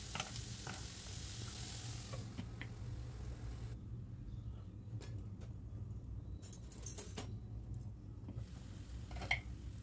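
Tomatoes, onion and salt cook down in a pan without added water, giving a faint, continuous sizzle with scattered soft ticks and clicks and no voices.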